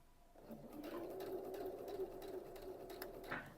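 A sewing machine stitches skirt fabric gently and slowly, giving a soft, steady whirring hum that runs for about three seconds, faint and close.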